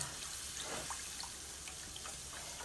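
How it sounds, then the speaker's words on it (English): Milk is poured into thickening pan gravy for southern pork chops, giving a soft, faint, continuous liquid trickle with no talking. "Then we're going to take this, some milk, pour in milk."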